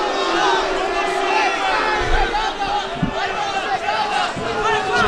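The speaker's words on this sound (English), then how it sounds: "the crowd getting a little restless here" A restless crowd at a televised MMA fight between Jon Jones and Carlos Eduardo murmurs and shouts steadily throughout, with scattered yells and a few louder surges rising from the dense arena noise.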